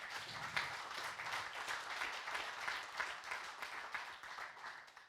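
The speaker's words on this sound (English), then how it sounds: "I think that's worth an applause." An audience at a developer tech talk claps together in a continuous, moderately quiet patter of applause, even and sustained without speech over it.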